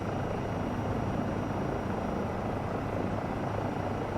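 A Eurocopter EC135 helicopter in the flight simulator MSFS 2024 gives off a continuous, even rotor and turbine roar with a faint high whine, steady and close with no talk over it.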